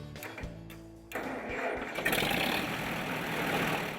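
A restored 1950 Minneapolis Moline RTE tractor engine cranks over briefly, catches with a loud rise at about one second, then settles into a steady, rough idle close by, with no talking.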